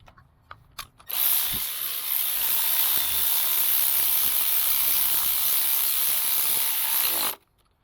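A ratchet snugs the coil bolts on a 2014 Chevy Sonic with an Ecotec 1.8L engine, producing a steady, close, whirring buzz that runs for about six seconds after a few faint clicks.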